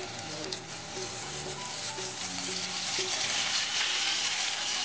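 Butter-coated bread rolls fry in hot oil over low heat, giving a continuous, close hiss of sizzling that swells slightly toward the end.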